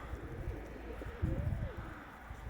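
Racing pigeons cooing at their loft, a low soft coo rising briefly over quiet background noise, close by and alone.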